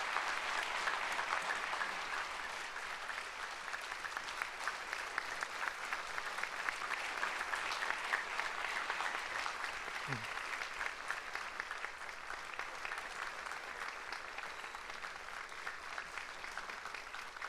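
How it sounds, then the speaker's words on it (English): Steady applause from the audience at a South Korean presidential inauguration ceremony, sustained and fairly even throughout, with a slight easing toward the end. "Please give another big round of applause to the President."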